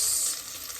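Garlic sizzles in a cooking pot for soup, a bright crackling hiss heard close up for under a second, strongest at the start and then settling.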